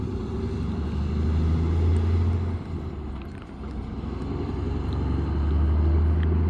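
An 18-speed semi truck's engine and exhaust rumble in a deep, steady drone that dips briefly midway and then swells again, loud and continuous with some wind noise.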